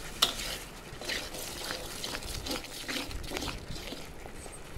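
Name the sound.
stirring yardlong beans in a cooking pan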